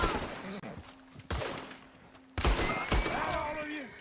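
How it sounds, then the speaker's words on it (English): Gunfire in Red Dead Redemption 2 rings out as a few sharp, loud shots spaced apart over a few seconds, with talking around them. "get your gun out, Arthur."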